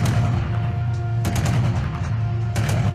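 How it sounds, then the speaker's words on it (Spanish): Gunfire and bombing in a conflict zone, with loud, overlapping bursts of shots and sharp cracks over a steady low rumble, lasting a few seconds. "Hay gran cantidad de bombardeos y disparos."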